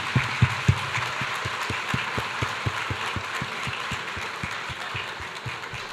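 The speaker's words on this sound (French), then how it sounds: "merci de m'avoir applaudi" Audience applause during a panel discussion, a steady patter of clapping hands at moderate volume, with a few louder claps standing out near the start.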